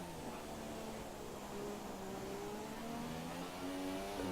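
A McLaren Honda Formula 1 car lapping in the F1 2017 video game, its engine note rising and sweeping steadily as it accelerates, heard fairly close as one continuous tone.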